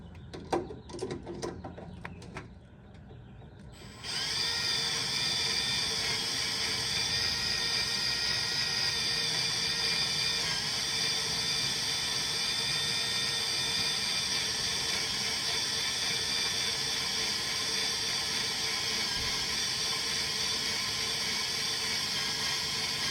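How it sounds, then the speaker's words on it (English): Some brief clicks and rattles, then a power drill whines steadily and loudly without pause while drilling holes for AN3 bolts in aircraft hydraulic brake parts, a constant high-pitched mechanical drone. "now we're basically just going to drill up to our AN3 size bolts"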